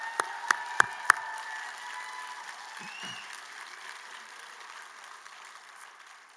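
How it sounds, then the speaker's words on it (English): Graduation ceremony audience applause at Trocaire College, a sustained wash of crowd clapping that starts with a few sharp, close claps and then fades out gradually. "Let's give them a round of applause, please."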